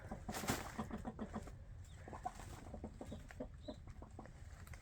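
A hen and rooster cluck softly nearby at a nest in short repeated bursts, with a few scattered calls over a quiet background.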